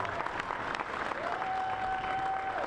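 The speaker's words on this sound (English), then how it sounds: "please give another round of applause for Adam Snyder" Sustained applause from an audience at Space Center Houston fills the space as a steady wash of clapping, with a faint tone gliding up and holding beneath it.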